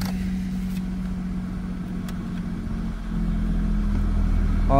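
A Maruti 800 car with air conditioning idles after starting, a steady low engine hum that swells slightly louder and rougher toward the end, with no talk.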